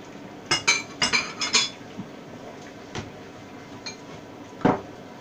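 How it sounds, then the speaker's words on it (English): A spoon clatters against a pot while curry ingredients for a Thai red curry with pork and pickled bamboo shoots are stirred: a quick run of metallic clinks, then sparse, softer knocks. "Stirring them in."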